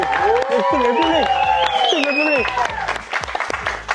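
An audience applauds a band in a studio or stage setting, with steady clapping running under loud talking and laughter for the whole stretch.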